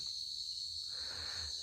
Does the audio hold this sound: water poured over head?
no